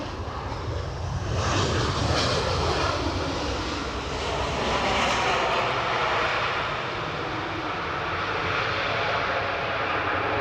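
A Ryanair airliner arriving at Edinburgh Airport, its engines a loud, steady broadband roar that holds through the whole stretch with a slight swell midway, no voices present.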